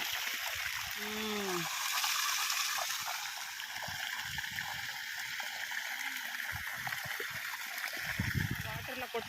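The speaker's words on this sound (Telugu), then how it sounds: "నీళ్ళు ఎంత బాగా పారుతున్నాయి చూడండి ఇక్కడ" Water rushes and gurgles steadily in a stream, a constant hiss close by, while a person speaks intermittently over it.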